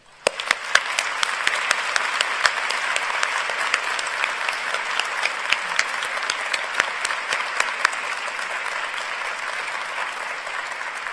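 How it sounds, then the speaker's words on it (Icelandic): Applause at a university graduation ceremony for the graduating students: a full room of steady, dense clapping with sharp individual claps standing out, sustained at an even level for the whole stretch. "Við skulum gefa þessu myndarlega hópi gott klapp."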